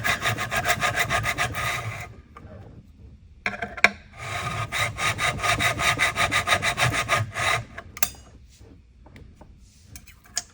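Guitar frets are filed and shaped after sanding, with a rapid rhythmic rasping of back-and-forth strokes, a short pause, then more filing close up.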